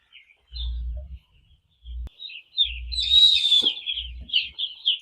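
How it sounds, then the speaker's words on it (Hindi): Broiler chicks newly arrived at a farm peep and cheep in a busy, continuous high chorus of short overlapping calls, with a few brief low thumps and handling noises underneath. "देखु ये है बॉयलर चिक्स"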